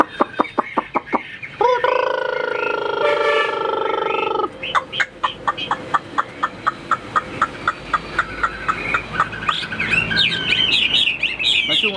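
A hwamei songbird sings loud and close in bright, varied phrases and quick repeated chirps, with a brief burst of mechanical noise early on.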